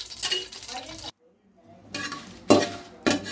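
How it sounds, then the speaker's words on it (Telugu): Twenty dried red chillies roast in a little oil for coriander chutney, with bursts of stirring, light sizzle and utensil clinks broken by a short silent pause. "వాటిని కొంచెం ఆయిల్ వేసి రోస్ట్ చేసుకోవాలి"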